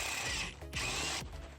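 A pneumatic impact wrench spins off the broken bracket bolts on a Honda CR-V during engine removal. It sounds in two short, loud rattling bursts separated by a brief pause, close by, with no talking.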